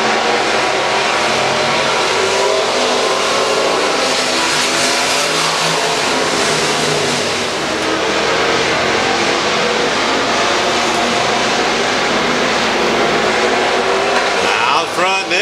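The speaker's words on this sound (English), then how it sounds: "Laps winding down here in our IMCA Stock Car A main." IMCA stock cars race on a dirt track in an A main event, a continuous loud roar of several engines revving and passing, with an announcer talking over the noise throughout.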